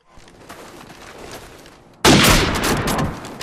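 Gunfire from the World War II shooter Call of Duty 2 breaks in abruptly after a quiet stretch, a loud burst of rapid shots with ringing echo that continues to the end.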